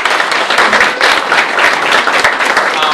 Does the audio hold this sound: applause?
yes